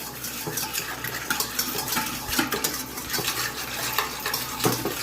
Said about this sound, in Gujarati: પછી એને આવી રીતે પ્રોપરલી બલૂન વિસ્કથી વિસ્ક કરી લો.